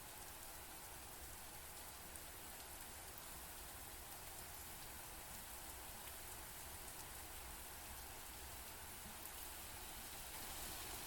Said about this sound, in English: The rain grew louder.